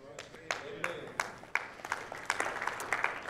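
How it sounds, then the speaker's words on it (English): Scattered, sparse clapping from a church congregation, individual claps popping out at uneven intervals and gradually building, fairly quiet in a reverberant hall. "if it's going to take that long for you to clap"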